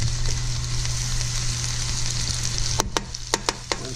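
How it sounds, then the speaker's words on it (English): Minced garlic sizzles in melted butter in a pan, a steady dense hiss with a low hum underneath, and several sharp clicks of stirring near the end. "Butter melting in there, and we're gonna add some minced garlic."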